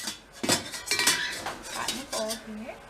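Metal surgical instruments clatter and clink against each other while being rinsed in distilled water, a series of sharp close rattles and scrapes with short pauses between, no talk.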